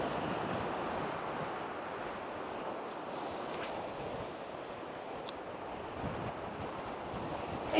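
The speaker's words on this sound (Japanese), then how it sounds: "ここからね波がバンバンバンバン入ってきてて" Ocean surf rolls onto the rocky shore of Amakusa, Kumamoto, during a flat seabass fishing session: a steady, loud, broadband wash of breaking waves mixed with gusty wind buffeting the microphone, with no voices.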